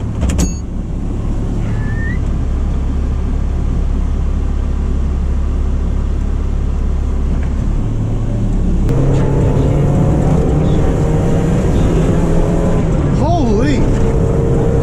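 A 1996 Mazda Miata fitted with a limited-slip differential pulls away and accelerates, its engine note rising steadily and loud up close, with a brief voice partway through.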